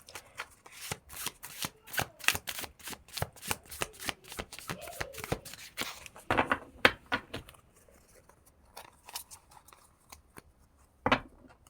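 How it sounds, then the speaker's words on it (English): Close, steady riffling and snapping of tarot cards being shuffled over and over, a rapid crisp rhythm that thins out toward the end. "I'm just going to shuffle and see what comes out."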